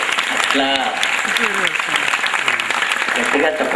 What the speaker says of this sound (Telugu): చప్పట్లు గట్టిగా కొట్టాలి.